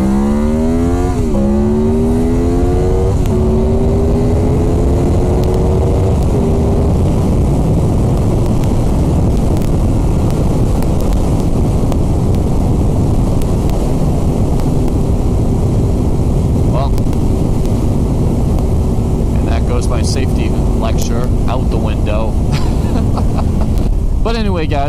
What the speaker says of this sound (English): I'm about to jump on the highway here, so it's going to be really difficult to hear me